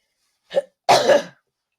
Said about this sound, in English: a coughing spell is coming because I had COVID this month